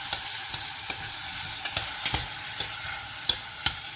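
Corn and tomato paste being stirred in a pan sizzle steadily up close, with frequent spoon knocks and scrapes breaking through the frying hiss; nobody speaks.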